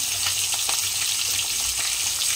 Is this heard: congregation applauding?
no